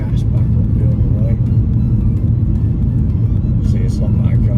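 A remapped BMW E91 330d with the M57 diesel accelerates in a deep, steady rumble heard from inside the car, loud and continuous throughout, with someone talking over the engine.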